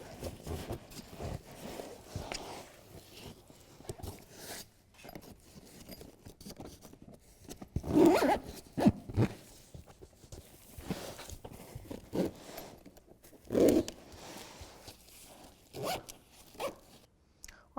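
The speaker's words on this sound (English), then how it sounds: "Easiest way is to keep the two pieces of zipper lined up together as you're going." Zipper on a BEDRUG truck bedliner being pulled closed in short ripping runs with pauses, louder bursts around the middle and near the end, mixed with handling rustle and some talking.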